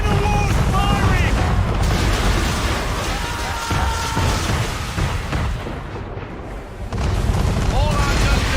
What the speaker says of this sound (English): We're under attack! Man of war's firing!